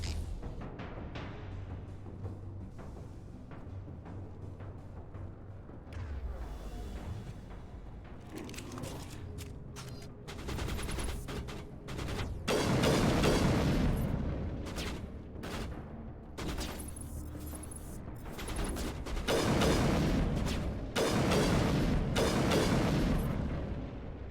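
Gunfire in Mass Effect 1 combat against Batarians: dense bursts of rapid shots and heavy booming impacts, loud and sustained, swelling in waves across the scene with no talk.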